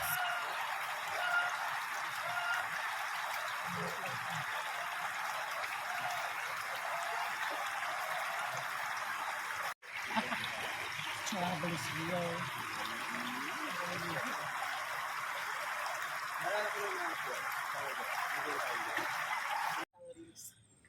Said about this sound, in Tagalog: Masan nyo guys yung tunog ng tubig, nakaka-relax.